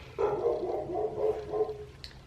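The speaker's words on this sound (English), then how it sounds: "It'd be better if Lumen could stop barking." A dog barks in a quick run of several yappy barks, fairly close and moderately loud, with no talking.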